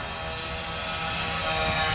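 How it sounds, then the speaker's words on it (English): A Consolidated PBY Catalina flying boat makes a low pass, its engine roar a broad, steady drone that slowly grows louder over two seconds. "That looks a wonderful aeroplane, absolutely beautiful."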